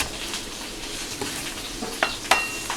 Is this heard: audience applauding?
no